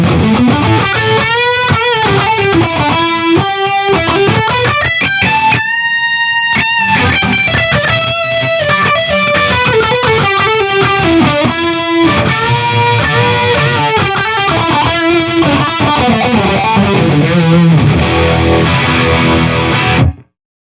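High-gain electric guitar driven by a Friedman BE-OD Deluxe overdrive and run through a Danelectro FAB Series chorus pedal, loud and sustained with shimmering modulated chords and riffs, a brief pause near the middle, no talking.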